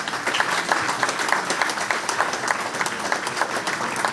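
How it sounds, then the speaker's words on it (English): An audience at a Rochdale AFC fans' forum gives a sustained round of applause, with many hands clapping at an even, lively pace and no talking over it. "A round of applause please for our Chief Operating Officer, Mr. George Dells."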